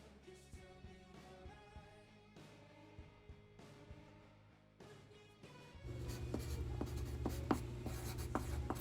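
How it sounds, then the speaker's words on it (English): A pencil scratches quickly across a sticky note, close up, with soft background music and a dense burst of writing near the end. "Hear that pencil, guys?"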